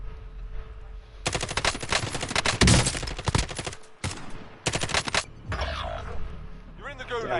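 Rapid automatic gunfire bursts from the Call of Duty Warzone video game, loud and dense, in several volleys with brief gaps, while players talk over the action.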